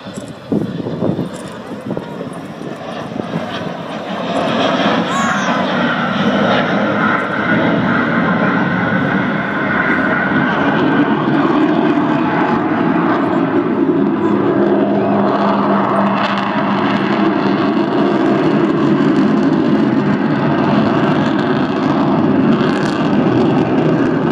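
Loud, sustained roar of the Avro Vulcan XH558 bomber passing overhead at the 2015 Southport Air Show, building early and holding a heavy, rumbling drone to the end.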